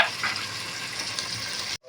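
Chopped tomatoes fry in a hot pan with a steady, bright sizzle and soft stirring scrapes, close and continuous before stopping abruptly.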